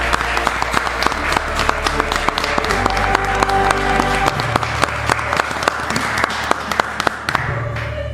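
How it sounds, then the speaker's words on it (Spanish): Vigorous crowd applause for Javier Milei at a mass gathering, dense rapid clapping with sharp individual claps standing out, sustained across the whole stretch. "Un aplauso"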